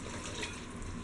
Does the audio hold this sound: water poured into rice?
yes